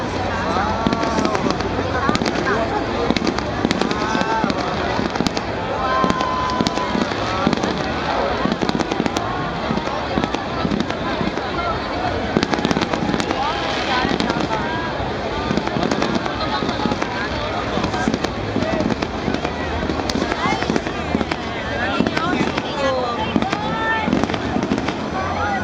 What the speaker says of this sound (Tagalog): So we're still waiting for the big fireworks, and it's gonna be there in a second